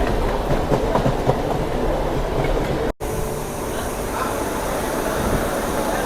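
A MEMU passenger train of general coaches rolls past on a rainy run out of Renigunta, with a loud, steady rumble and rhythmic clickety-clack of wheels on rail joints, broken by one brief dropout midway.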